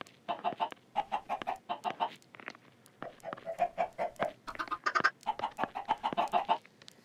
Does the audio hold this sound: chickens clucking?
yes